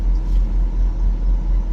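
Steady low rumble and hiss of an air conditioner blowing inside a truck cab on a hot day, constant and close, alone without talk.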